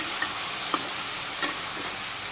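Food sautés in a pan with a steady, close sizzle and a few light knocks and scrapes of a stirring utensil.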